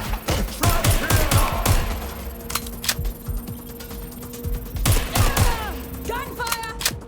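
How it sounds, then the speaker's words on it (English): Dense video game gunfire from a Watch Dogs Legion firefight: rapid bursts of automatic shots and sharp single cracks, close and loud, with mechanical clicks of reloading between volleys and bright ringing tails. "Gunfire!"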